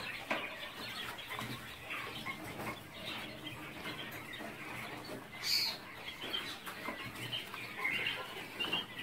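Ten-day-old giant quail chicks hatched from fertile eggs peep and chirp in a brooder, many high, thin calls overlapping with soft rustling and a brief flutter.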